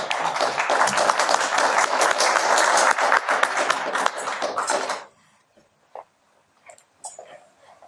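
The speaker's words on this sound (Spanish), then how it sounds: "Por favor, la recibimos con fuertes aplausos." Audience at a museum day talk in Cusco giving a burst of loud, dense applause for about five seconds, which then stops abruptly. A few faint stray sounds follow in near silence.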